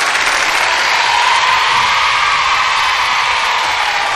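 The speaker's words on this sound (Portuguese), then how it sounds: "Aí, auditório. Aplausos pra eles." Dense, steady applause from a Brazilian TV studio audience rolls on at full volume for several seconds, a constant wash of clapping with no break.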